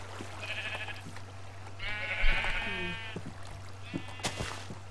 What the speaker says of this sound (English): This sheep is just begging to be killed.